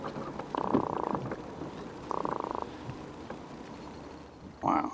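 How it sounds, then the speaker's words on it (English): A freshly caught little croaker fish makes short, buzzing croaks in two bursts, close and fairly faint, with a soft voice briefly at the end. "another croaker. And he's croaking already"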